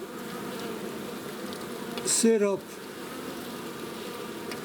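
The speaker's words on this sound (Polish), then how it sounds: "pszczoły inne pracują" Low, steady hum of honey bees working and guarding at a hive entrance, heard close, with a brief louder burst near the middle where a voice speaks a word.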